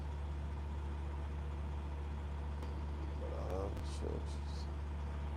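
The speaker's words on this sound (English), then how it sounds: "I love the truck. She sounds good on camera." A 625 horsepower truck engine idling, a steady low rumble close by throughout, with someone speaking briefly over it.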